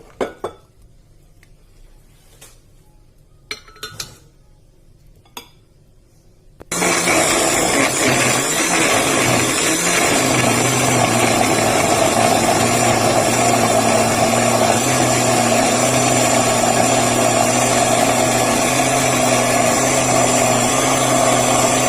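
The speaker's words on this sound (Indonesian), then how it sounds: "Cabai merah, tomat merah, dan bawang putihnya akan saya haluskan menggunakan blender." After a few quiet clinks, a blender abruptly roars to life and runs loud and steady, pureeing red chilies, tomatoes and garlic for chili sauce.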